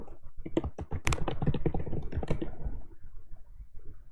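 Rapid keyboard typing of a router hostname during a Cisco networking lab, a close, dense run of crisp key clicks that thins out toward the end.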